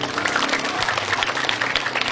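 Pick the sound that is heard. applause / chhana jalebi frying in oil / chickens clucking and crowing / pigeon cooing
applause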